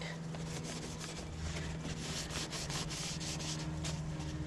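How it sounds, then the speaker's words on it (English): A Road Warrior motorcycle fairing for a 2018 Harley-Davidson Sport Glide FLSB is scuffed by hand before painting, giving a steady, close, continuous abrasive rubbing with faint rhythmic strokes throughout. "all this is doing is scuffing it up to get ready for the paint"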